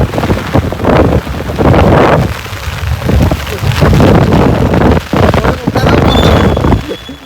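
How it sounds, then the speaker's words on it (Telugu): Strong wind gusting during a heavy village rainstorm, roaring and buffeting the microphone in loud surges over a constant rain hiss, with people speaking intermittently underneath. "బాగా సీడ్ మీద వస్తుంది గాలి"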